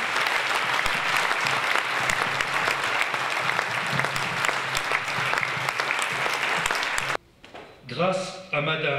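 Sustained audience applause welcoming the senator-mayor at an evening honoring ambulance workers, a thick, even clapping from a large room that stops abruptly before a voice begins speaking.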